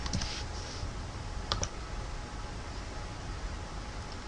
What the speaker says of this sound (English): So just go into Google and type in